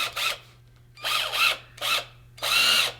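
A cheap cordless drill whirs in four short bursts, spinning up and cutting off again, close and fairly loud, with a low steady hum underneath.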